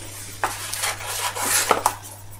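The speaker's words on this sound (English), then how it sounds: "So you put the butter in with the sugar, and then using a wooden spoon," Butter and sugar are creamed with a wooden spoon in a bowl, giving close scraping and knocking sounds with a few sharper clinks against the bowl.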